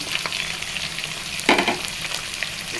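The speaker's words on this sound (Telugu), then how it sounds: "స్ప్రింగ్ ఆనియన్ పచ్చిమిర్చి వేస్తున్నానండి" Spring onion and green chillies fry in a pan for a spinach and green pea curry, giving a steady close sizzle that swells into a louder burst of crackling halfway through, with no talk.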